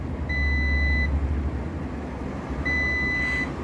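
A multimeter beeps on a continuity test of a capacitor during TV repair, two steady high tones each about a second long separated by a pause, clear over a low background hum.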